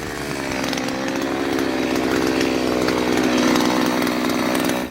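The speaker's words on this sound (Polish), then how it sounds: "To jest wiertnica Kaltman o symbolu KWS 520." A loud motorized Kaltman KWS 520 earth auger runs at a steady high pitch drilling into the ground, close by and continuous, grinding without pause before cutting off abruptly at the end.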